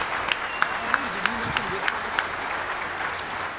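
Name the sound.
audience applause at DEFCON closing ceremony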